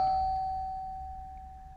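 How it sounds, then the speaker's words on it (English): A single electronic doorbell chime rings out as one steady, sustained tone that slowly fades over under two seconds, alone with a faint low hum beneath it and no talking. "I think someone just rang my doorbell."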